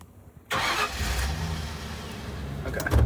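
An old abandoned boat car's engine cranks and catches after a quiet moment, then runs roughly and revs up, building louder toward the end.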